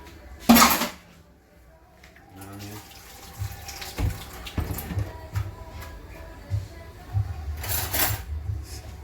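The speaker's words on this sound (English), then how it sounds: "Whole heap of food are going in the pot right now." Chunks of yam, banana, pumpkin and carrot splash and thud into a pot of fish soup, with two loud watery splashes, one near the start and one near the end, between clattering knocks and sloshing.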